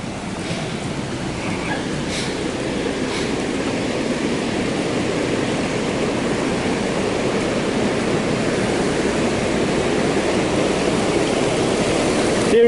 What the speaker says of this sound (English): You see the water's just flowing down over here at the moment.